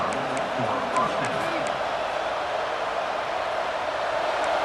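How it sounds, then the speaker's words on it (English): A College Football 26 stadium crowd roars in a dense, continuous wash of noise, loud and sustained, with a commentator's voice briefly heard over it at the start. "This crowd, full throat, splitting the eardrums"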